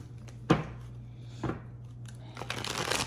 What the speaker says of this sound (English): I'm also going to shuffle the deck too. Give it a good shuffle